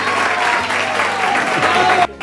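A studio audience applauds on a Spanish TV variety show, a dense, steady wash of clapping with voices over it, cutting off sharply near the end.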